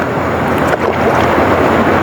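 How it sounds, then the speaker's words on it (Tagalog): Strong wind buffets the microphone in a steady, rumbling roar, with a rushing, surf-like wash underneath and no voices. "Kaso lang malakas yung hangin."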